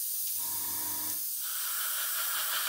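An airbrush lays down light, dry passes of Tamiya XF85 paint mixed with Mr. Colour Leveling Thinners onto a 1/72 Airfix Vulcan model, a close, soft hiss with a brief tonal hum at the start of the spray.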